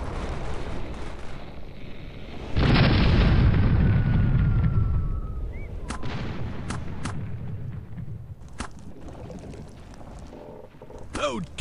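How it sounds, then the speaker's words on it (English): Ship cannons boom in the Air Buccaneers airship game, a heavy blast at about 2.6 seconds followed by a sustained rumbling roar, then several sharp cracking shots, with voices shouting over the action. "Load cannonballs! Fire!"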